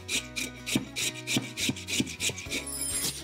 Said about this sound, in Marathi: बटाट्याचं साल काढून झालं की बटाटा किसून घ्यायचा।